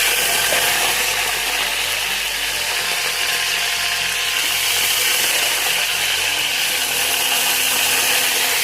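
Eggplant dropped straight into hot oil gives off a steady, dense sizzling hiss that holds evenly from start to finish, with a low rumble underneath.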